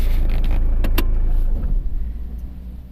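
Citroen C5 X7 with a DW10CTED4 diesel engine being switched off: a steady close engine rumble fades out, with a few short clicks and a faint buzzing around the shutdown.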